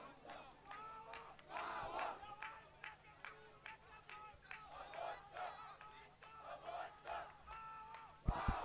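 Spectators chant and cheer their team on at a rugby match at Ellis Field, rhythmic rising shouts from a crowd at moderate distance, with a brief sharp knock near the end.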